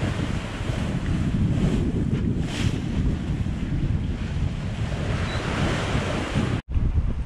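Wind buffeting the microphone and waves rushing past a sailboat under way at sea in sunny conditions, a dense, steady, close roar throughout, broken by one abrupt cut near the end.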